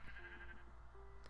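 A Minecraft sheep gives a brief, faint bleat, a thin wavering baa heard close in a quiet game scene with low background rumble.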